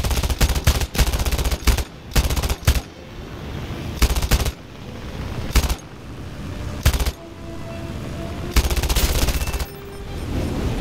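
Aircraft machine guns fire in the War Thunder flight combat game: around eight sharp bursts of rapid gunfire, each lasting under a second, stand out loudly over a steady engine drone, with no talking.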